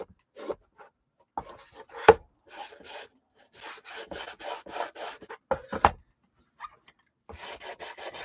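Wax is rubbed by hand onto a thrift store wooden box, short dry scrubbing strokes in uneven bursts with brief pauses between, close and fairly quiet.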